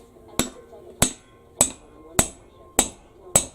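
Six evenly spaced, sharp metallic hammer blows ring out roughly every half second while a John Deere tractor tire is being worked off its rim, each strike loud and close with a brief ringing decay.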